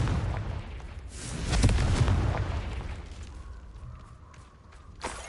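A Confringo blasting spell explodes in the video game Hogwarts Legacy, a deep rumbling boom that swells and then fades, with a sharp crack near the end.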